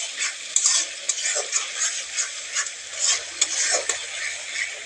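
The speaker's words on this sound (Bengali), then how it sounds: "আর অল্প ভেজে নিব মশলাটা।" Spices sizzle in hot oil with bay leaves, a dried red chili and a pinch of sugar while a spoon stirs and scrapes the pan; a steady close frying hiss with no talking.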